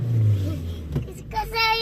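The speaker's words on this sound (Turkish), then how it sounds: "Abicim araba Çok hızlı gidiyorsun." A car engine revs and drones as the vehicle is driven very fast, its pitch rising into a whine, with voices talking over it.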